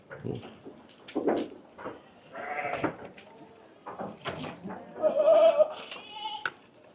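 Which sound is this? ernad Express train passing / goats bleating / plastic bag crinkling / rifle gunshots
goats bleating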